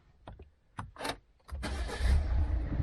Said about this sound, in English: and start the car up